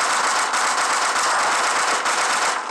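Sustained rapid automatic gunfire from the video game PUBG, loud and dense, rattling continuously for the whole stretch with only slight dips, with no voices over it.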